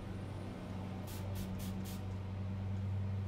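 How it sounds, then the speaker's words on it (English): Four quick spray bursts hiss in a row over a steady low hum, each a short airy spritz from a spray bottle of paint onto canvas. "I'm going to go ahead and spritz from here underneath it down"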